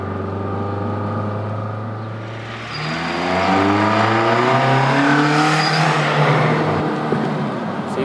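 A 1991 Honda Prelude SI 4WS with a dual overhead cam engine winds up through high RPM, its loud, close engine note climbing steadily in pitch for several seconds with no talk over it.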